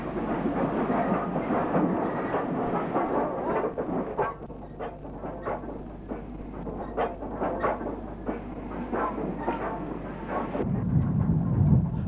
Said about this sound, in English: This Gresley V2 number 60895 had apparently worked in from its home base of York.